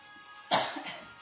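A single deep cough, close and fairly loud, followed by a brief rough breath in an otherwise quiet setting.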